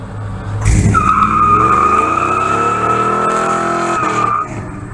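A sustained high tire squeal from a single spinning wheel of a 1958 Ford F100 pickup truck, loud and close over a revving engine, lasting several seconds before cutting off.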